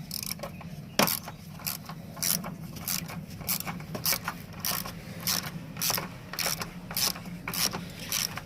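A wrench ratcheting to tighten a car battery clamp during a battery change, a brisk series of close, crisp clicks in short bursts with brief pauses.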